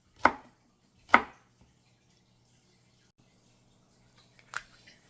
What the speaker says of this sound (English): So the okra is all chopped up